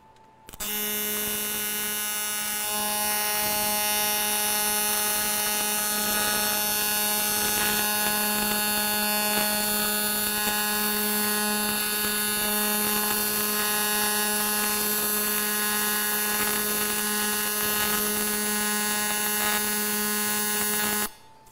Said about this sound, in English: We're going to do a little bit of AC aluminum welding here.